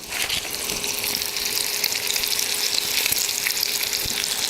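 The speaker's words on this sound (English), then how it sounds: "we're going to add our lamb chops, and we're just going to sear on each side for about 3 minutes" Lamb chops searing in melted ghee in a hot pan for oven-roasted chops, a loud continuous crackling sizzle with bright spitting hiss throughout and no voices.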